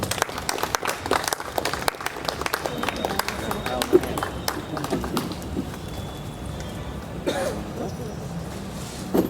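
A literary poetry gathering's audience breaks into applause as a poet is called to the stage, dense clapping strongest at first then thinning out, with coughs and murmured talk underneath.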